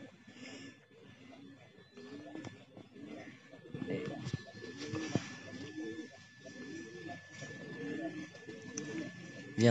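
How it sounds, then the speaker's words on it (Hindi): Several Kalsara pigeons coo repeatedly nearby in a rhythmic series of soft, throaty rolling calls, with faint background noise and someone talking over them. "ये हमारा कलसरा कबूतर आया है,"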